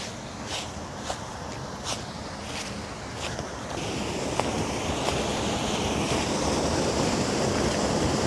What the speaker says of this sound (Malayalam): ആ റിസർവോറിൻ്റെ ഏറ്റവും അടിയിൽ നിന്ന് വരുന്നതുകൊണ്ട് തന്നെ മാക്സിമം ഫോഴ്സിലാണ് വെള്ളം പുറത്തേക്ക് തള്ളി വരുന്നത് കേട്ടോ,